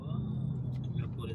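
An Infiniti Q50 creeps slowly through snow, its low, steady engine and road rumble droning continuously at moderate level, with brief faint sounds from inside the car.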